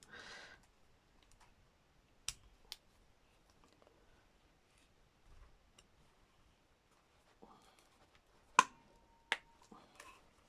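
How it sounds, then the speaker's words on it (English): A single knuckle cracks as a sharp, brief snap in a quiet room during tapestry wool sorting, with a few other scattered faint clicks and rustles around it. "Oh, that was my knuckle. Did you hear that?"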